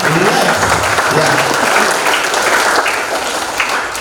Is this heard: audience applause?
yes